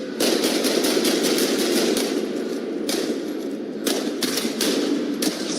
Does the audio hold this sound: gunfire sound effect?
yes